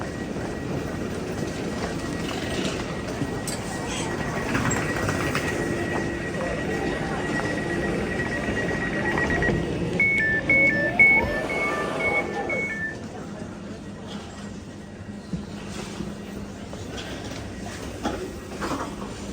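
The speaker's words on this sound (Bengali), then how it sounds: "আমরা এখন ট্রেনের ভিতরে চলে আসলাম।" An airport train heading to Terminal 4 rumbles steadily from inside the carriage, with brief electronic tones partway through and some voices mixed in.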